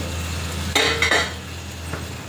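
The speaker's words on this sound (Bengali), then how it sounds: "এখন আরেকবার ঢাকনা তুলে দেখব কেমন হয়েছে।" A lid lifts off a cooking pot with a short metallic clatter and scrape over a soft background simmer, followed by a lighter clink a moment later.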